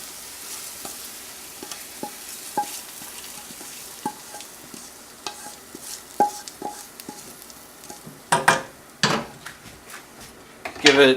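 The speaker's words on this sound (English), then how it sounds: "Give the dal a nice little stir." A spoon stirring masoor dal in a pot, with soft scraping taps at irregular intervals and a few louder clatters near the end, all over a quiet background with no talk.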